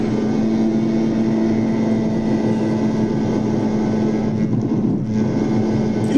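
Steady engine drone with a sustained tonal hum, like a vehicle motor held under load while moving through gears, loud and continuous with some wind-like rush and a brief dip near the end.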